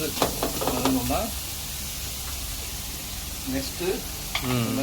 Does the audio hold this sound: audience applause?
no